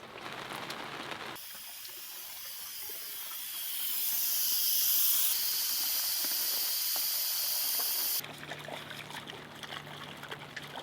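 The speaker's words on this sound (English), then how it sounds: "a quick release for any other steam that's inside" Steam hisses out of a pressure cooker during quick release, a steady close rushing hiss that swells louder midway, then cuts off abruptly, leaving quiet room noise.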